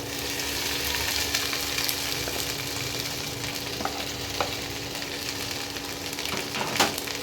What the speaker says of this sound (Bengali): তেলটা গরম হচ্ছে, আমি এবার ঢ্যাঁড়সগুলো দিয়ে দিচ্ছি।